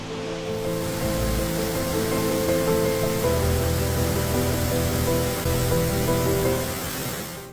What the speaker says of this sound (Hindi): चिकी, थ्रिलिंग लग रहा है तुमको वाटरफॉल के पीछे जाने के में?